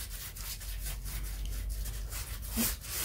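Paper spreads glue across cardboard while making a cardboard heart, a soft continuous rubbing and scraping with faint rhythmic strokes, close and quiet.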